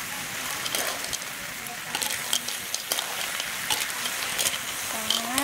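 A Thai stir-fry cooking in a pan, steady sizzling and frying with intermittent scraping and stirring clatter throughout, close and moderately loud with faint voices in the background.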